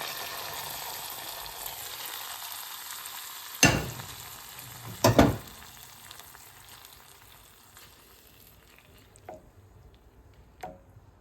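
Browned garlic and tengra fish fry in a pan, with a continuous soft sizzle punctuated by a few sharp stirring and splashing bursts that fade into quieter crackles.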